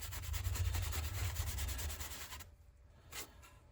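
A cloth buffing a homemade Rub and Buff metallic finish: a close, rhythmic scrubbing rub that runs steadily, then eases into lighter strokes with one brief swipe near the end, no voices.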